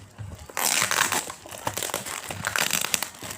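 Parcel of slime supplies being opened, its plastic packaging crinkling and rustling close up in a continuous stream of crackles, with a few sharper crunches.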